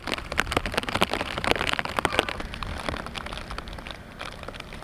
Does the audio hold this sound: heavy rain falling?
yes